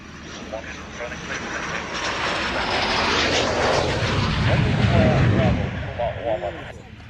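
An aircraft arrives at the Royal International Air Tattoo airshow with a loud engine roar that swells to a peak and fades, while radio chatter and nearby voices talk over it.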